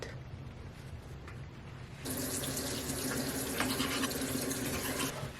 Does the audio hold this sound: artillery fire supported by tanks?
no